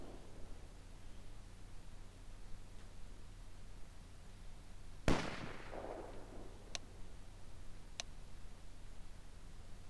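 Sniper rifle fire in a video game: a single sharp crack with a short decaying tail midway, then two faint, thin clicks a little later over a steady low hiss.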